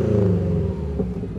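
A 2011 Subaru Impreza WRX engine revs up briefly and settles into a steady, rumbling idle, close and fairly loud.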